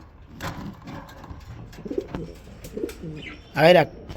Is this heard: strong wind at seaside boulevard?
no